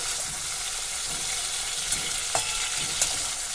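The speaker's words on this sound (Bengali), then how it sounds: "চিংড়ি মাছটা ভেজে নিচ্ছি নাড়াচাড়া করে" Prawns fry in hot oil with a steady sizzle, with a few sharp scrapes and clinks from stirring cutting through the constant hiss.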